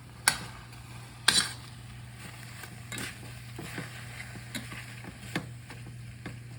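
Salted oyster mushrooms hit a hot, oil-free pan and are tossed, giving a few sharp clattering knocks over a quiet, continuous sizzle.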